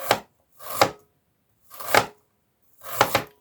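A knife slicing clean, unpeeled ginger into thin pieces on a board, four separate crisp chopping strokes spaced about a second apart, close and clear with no talking.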